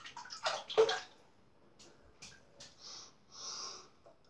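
Running water from a tap splashes over a shaving brush with a Mew or Sinbad knot as it is wetted, heard as short close gushes and trickles with quiet pauses between them.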